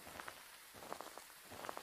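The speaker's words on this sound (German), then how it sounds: "Ja, es regnet." Rain falls in the Phasmophobia horror video game, a faint, soft patter of drops on a surface with slight irregular pulses and no speech over it.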